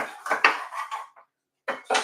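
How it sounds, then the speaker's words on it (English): A knife chops bell pepper on a cutting board in a kitchen, giving a quick run of crisp taps and clatter, then a short pause and two more knocks, close and unaccompanied by speech. "I'm just chopping the bell pepper"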